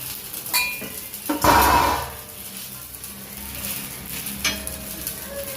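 Soya cutlets shallow-roasting in a little oil in a pan give off a faint, steady sizzle, with a brief louder hiss and a few utensil clinks and scrapes.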